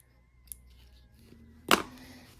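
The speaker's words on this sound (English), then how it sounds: "Just cut these little strings away." Scissors snip loose sewing threads on a machine-embroidered piece, a faint small snip early on followed by one sharp, close cut, with a quiet hum underneath.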